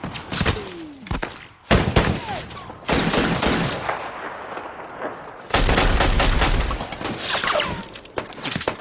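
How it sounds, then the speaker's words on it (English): Rapid bursts of gunfire from a film gun battle, loud volleys and sharp single shots cracking close, broken by brief lulls before another heavy barrage erupts. "When the gun battle does break out"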